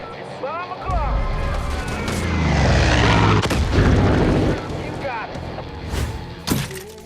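Explosions and mortar fire in the shooter game Far Cry 5, heavy booms swelling into a long rumbling blast, with a narrator talking over the start and later sharp impacts.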